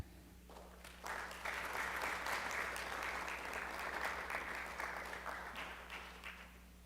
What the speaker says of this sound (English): please join me in giving a round of applause to these amazing students for this outstanding accomplishment